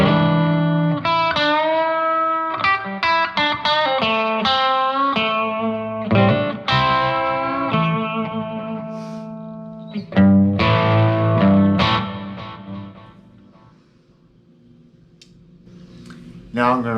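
Volgoa VTL 2 electric guitar on its bridge humbucker, playing loud, distorted blues lead phrases with bent notes and some rhythm chords, the effected tone running almost continuously before dropping to a quieter passage near the end.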